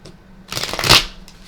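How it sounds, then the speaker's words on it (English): Tarot cards being shuffled close up, one quick riffling burst that swells and fades within about a second, with a faint flick just before and after. "let's get shuffling 3 times in a row"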